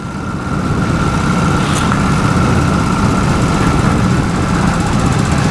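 A 1978 Harley-Davidson Low Rider motorcycle engine runs steadily and close by, a continuous loud rumbling drone with no voices.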